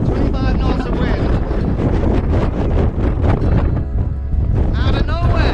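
Strong 25-knot wind roars across a sailboat's microphone in the channel between Tenerife and La Gomera in the Canary Islands, a loud, continuous buffeting rush with gusts, with a voice talking over it.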